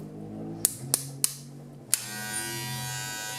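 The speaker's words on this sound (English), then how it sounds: "Very smooth, very quiet clipper." Steady low electric hum of a TPOB Slime Edition hair clipper running, with four sharp clicks early on before the motor settles into a smooth, quiet drone.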